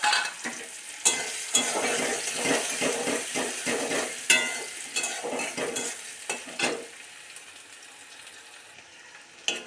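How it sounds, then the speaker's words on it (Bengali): Chopped onion, garlic and ginger hit hot oil in a wok and fry with a steady close sizzle. Spoon strokes and metal scrapes clatter through it irregularly until the frying fades near the end. "তেলটা গরম হয়ে গেছে, এবার দিয়ে দেবো পেঁয়াজ কুচি,"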